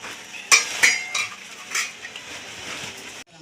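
A plate and utensils are moved in a home kitchen, giving several sharp clinks and scrapes of metal on crockery spaced irregularly, then quieter rattling before an abrupt stop.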